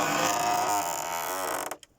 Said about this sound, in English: Oh, that creaked, didn't it?